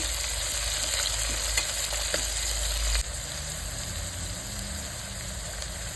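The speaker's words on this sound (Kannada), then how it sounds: "ಇದೆಲ್ಲ ಸ್ವಲ್ಪ ಚೆನ್ನಾಗಿ ಎಣ್ಣೆಲಿ ಫ್ರೈ ಆಗಬೇಕು" Chilli and onion fry in oil for a millet aloo pulao. A steady sizzle runs close by with a few scraping stir clicks early on, and the hiss continues evenly after that.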